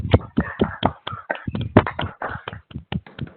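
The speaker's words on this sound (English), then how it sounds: "If I could have everybody unmuted for a little second, so we can just applaud the second panel here." An online audience applauds after unmuting, a rapid burst of close, uneven hand claps from a few participants that continues without a break.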